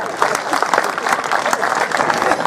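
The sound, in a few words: audience applause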